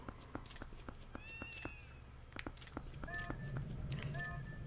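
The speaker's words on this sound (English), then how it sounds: "That is a cat." A cat meowing in the video game The Legend of Zelda: Twilight Princess, a few short mewing calls amid game footsteps and background music, with a person talking over it.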